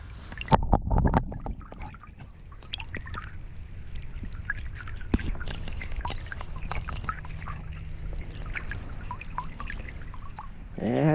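A broken arrowhead tip found in a creek and fields is rinsed in creek water, with small splashes and trickles at the start, then a soft, continuous wash of running water and faint dribbling, close, with no talk.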